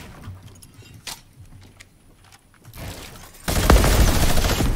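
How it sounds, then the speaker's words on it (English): Fortnite minigun opening up in a solo tank battle mode, quiet clicks and scattered shots first, then a sudden loud, dense buzzing stream of rapid fire that continues steadily to the end. "Wow, the minigun's cool."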